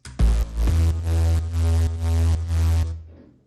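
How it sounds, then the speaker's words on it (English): Three layered synth basses, including a sub bass and a Reese bass, play a sustained riff of repeated held notes, deep sub rumble under a buzzing upper tone, then fade out. "Now the bass, 3 basses, a sub bass, Reese bass,"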